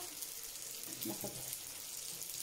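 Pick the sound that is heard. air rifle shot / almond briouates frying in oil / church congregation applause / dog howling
almond briouates frying in oil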